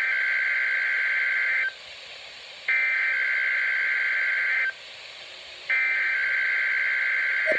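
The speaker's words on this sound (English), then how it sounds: "conducting a weekly test of the NOAA Weather Radio Warning Alarm" NOAA Weather Radio warning alarm weekly test tone from the National Weather Service office in Rapid City, South Dakota: a loud, steady electronic tone sounding in three long bursts separated by short gaps, alone without speech.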